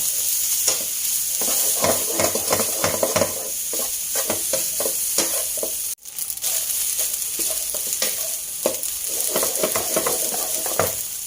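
Pork fried rice with pickled mustard greens and chili is stir-fried in a hot pan, giving loud continuous sizzling broken by quick, rhythmic spatula scrapes and tosses that run close and steady throughout.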